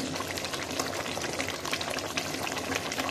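Catfish pieces stir-fry in a pan with homemade curry paste and holy basil, giving a dense, continuous sizzle that stays loud and even throughout, with no voices.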